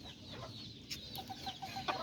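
Aztecas rooster and hens cluck softly in short, scattered bursts over a steady background hiss, fairly faint and close by, with no talking.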